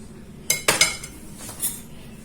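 A small knife cutting through a three-ingredient dessert on a plate, a few sharp close clinks of metal against the dish with soft scraping in between.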